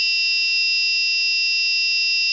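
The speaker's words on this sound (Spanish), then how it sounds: "ahí podemos ver cómo se activó la alarma" Shrill, steady high-pitched buzzer of an Arduino carbon monoxide and LPG gas alarm, sounding continuously and loud with no break.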